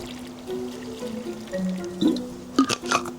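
Water poured from a kettle into a pour-over coffee maker over ground coffee, a steady trickling stream with a few brief splashy bursts near the end, close and fairly quiet.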